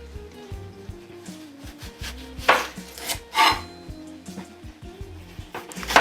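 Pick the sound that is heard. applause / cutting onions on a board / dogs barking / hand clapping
cutting onions on a board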